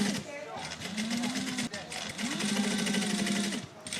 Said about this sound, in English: we're going to stitch it all the way down to this bottom corner